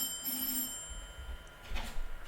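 A telephone rings with a sustained electronic tone at the start, then fades amid low room noise and some thumping handling sounds.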